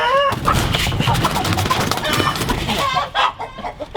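Wyandotte chickens at a poultry show in Longford, Tasmania, cluck and call in busy overlapping bursts close by, with one brief crow-like cry among them.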